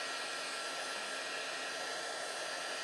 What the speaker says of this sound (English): I'm going to use the other heat tool to dry mine.